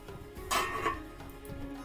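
A snack is stirred around a pan, giving a short burst of scraping and light clatter of utensil on metal that stands out briefly against quiet kitchen background, alone with no talking.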